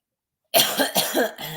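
A single harsh cough breaking into a few rapid, raspy bursts after a moment of silence, close to the listener.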